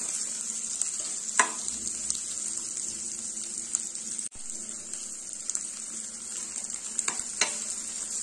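Carrots and peas for a bajra (pearl millet) upma sauté in a pan, with a soft, constant sizzle under repeated scraping strokes of a spoon stirring the vegetables, heard close up with no speech.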